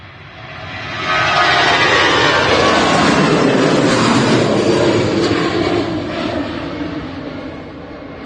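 An EasyJet airliner at Manchester Airport rushes in with a loud roar that rises sharply after about a second, holds strong, then slowly fades away, with no talking.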